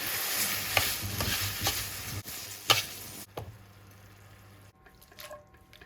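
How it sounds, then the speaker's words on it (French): Sage leaves in butter browning in a pan, with a steady close sizzle and crackle broken by stirring scrapes and clicks, then the frying quiets down near the end. "Ça, c'est qu'on est en train d'avoir le beurre noisette"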